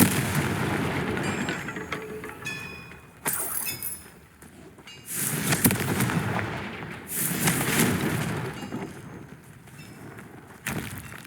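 Fiery Confringo spell blasts in Hogwarts Legacy burst out in a series of loud, broadband explosions, several sharp booms spaced a second or two apart over a steady rumbling battle background.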